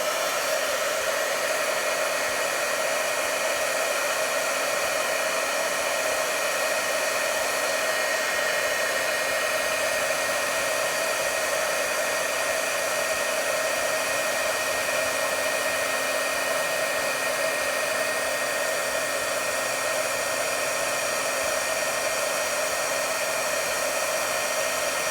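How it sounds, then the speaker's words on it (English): Steady, loud whirring blast of a heat gun melting embossing powder on a stamped image, running continuously without pause and with no talking. "So it's going to be a little bit loud, so I'm not going to talk during it"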